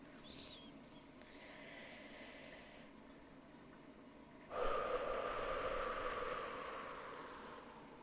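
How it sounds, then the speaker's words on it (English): A slow, deep breath: a soft, faint airy inhale followed by a longer, louder exhale that gradually fades, with no voices. "A really deep, slow breath."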